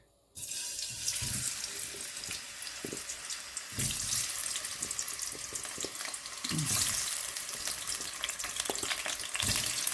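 Potatoes sizzling and crackling in hot oil for degi gobhi aloo, a steady loud hiss with occasional stirring clatters and small pops throughout.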